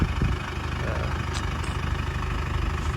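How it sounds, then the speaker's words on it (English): A diesel truck engine idles while warming up, a steady, moderately loud rumble with a fine mechanical clatter, continuous throughout with no voices. "I'm warming up the truck, gonna go drive it around a little bit"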